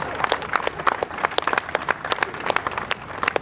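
Lively audience applause at a live comedy show by Ausbilder Schmidt, a crowd of many hands clapping in quick, uneven bursts, fairly close and loud.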